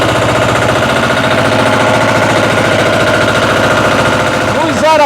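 A walk-behind tractor (motoblock) engine runs loud and steady at close range, a rapid hammering putter that holds through the clip and rises slightly as the revs are raised near the end.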